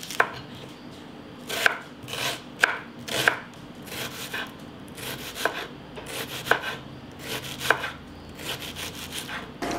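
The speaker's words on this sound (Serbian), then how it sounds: "Sada ću jednu glavicu crnog luka iseći sitno." A single onion being finely chopped with a knife on a board, bursts of quick rhythmic cuts separated by short pauses, close and fairly crisp, with no speech.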